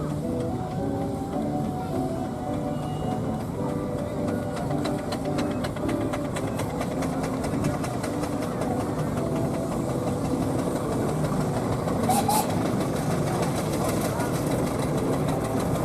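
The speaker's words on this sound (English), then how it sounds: "Big Marshal Agricultural coming around now." Large Marshall agricultural steam traction engine at a Gloucestershire steam rally, running steadily nearby with a continuous chuffing, mechanical rattle over a constant low rumble, under background crowd talk throughout.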